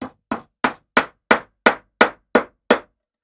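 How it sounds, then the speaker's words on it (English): Nine sharp, evenly spaced hammer taps drive small nails into a sawtooth picture hanger on a spalted maple picture frame, close and loud with brief silences between strikes. "I'm going to use one of these little sawtooth hangers. They come with little nails. You just nail it in place."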